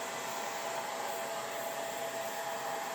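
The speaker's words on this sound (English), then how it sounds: "I'm going to put it on low and dry the painting as much as I can" A hairdryer on its low setting blows steadily over a snowman craft painting on canvas, a continuous soft whirring hiss with a faint whine, fairly quiet and with no one talking.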